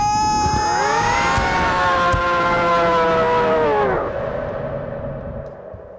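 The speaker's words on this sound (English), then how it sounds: "the sound of the siren is the song of sorrow" A loud, sustained siren wails steadily with rising and falling tones, then winds down and fades, leaving a low rumbling background.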